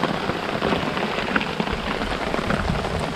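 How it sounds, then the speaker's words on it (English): Rain hammers hard on a tent and tarp at a survival campsite, steady, loud and close, a thick continuous drumming with occasional sharper drops standing out and no voices. "It's raining like crazy."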